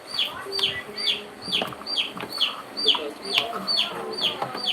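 Chicks being sold by a roadside vendor peep in rapid, repeated high cheeps, a dense overlapping chorus close by, with some clucking and background murmur mixed in.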